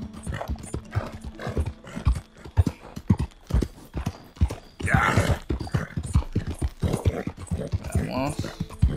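Horse hooves clip-clop steadily in Red Dead Redemption 2, a continuous rhythmic trot of sharp close hoof strikes running the whole time, with someone talking over them in Spanish.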